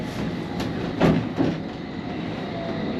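London Underground District line train running, heard from the front cab, a steady rolling rumble with a couple of louder rail clatters and wheel noises partway through, no voices.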